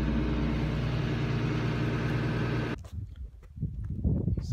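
Big farm tractor engine running steadily in a barn yard, a loud continuous low rumble that cuts off abruptly near the three-second mark, followed by scattered footsteps and movement.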